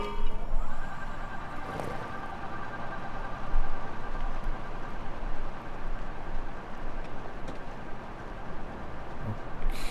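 A video game horse whinnies over a steady wash of noise and music, the neigh fairly clear near the start, with rumbling movement continuing underneath; a Bokoblin riding a skeleton horse in Zelda: Tears of the Kingdom.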